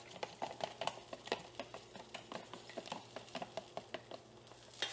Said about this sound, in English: we're going to beat our 2 eggs with chopsticks